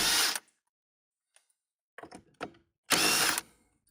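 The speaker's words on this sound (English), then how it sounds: "I am using a power tool to take these off" A power tool spins out impeller cone screws on a Scarab 215 ID jet boat, firing in short bursts: one opening whir, a couple of quick stuttering pulses, then a final loud burst, separated by silence.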